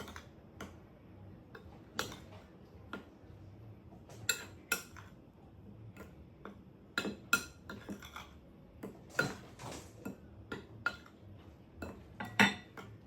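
A spoon clinks and scrapes in a bowl while mixing ingredients for arctic puffins from an Elf cookbook, irregular metallic taps and knocks scattered over a soft scraping background, close and moderately loud.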